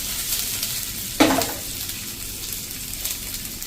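Chili and ginger fry in a pan of hot oil, giving a steady close sizzle with a brief louder burst of spitting crackle as something drops in partway through, then settling back to an even hiss.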